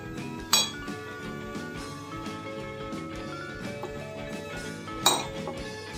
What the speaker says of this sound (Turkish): İyice karıştıralım.